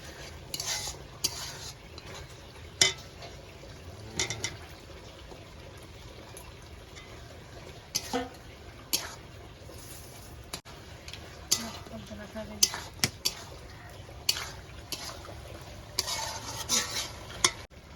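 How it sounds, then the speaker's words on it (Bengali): A spoon scrapes and knocks around a pan as fried chicken is stirred with kasuri methi in oil, for a Mughlai chicken curry. Soft sizzling runs underneath, broken by sharp metal clinks at irregular intervals. "এবার একটু কাসুরি মেথি দিয়ে নেড়ে নিয়ে চিকেনটা, ভেজে রাখা চিকেনটা দিয়ে দেব।"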